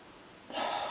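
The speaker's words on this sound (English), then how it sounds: "Let's get a proper sniff." One sharp, breathy inhale through the nose as someone sniffs a hazy beer, close up and fairly loud, after a moment of quiet room tone.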